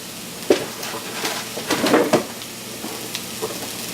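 Meat-free mince frying in a pan, cooked like ground beef, with a soft sizzle and a few stirring scrapes and clinks, close and moderate, no talk.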